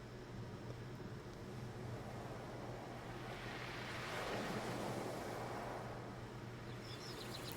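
Ocean waves break at the foot of a cliff in the video game Far from Noise, a steady rushing wash that swells slightly louder midway and plays alone without voices.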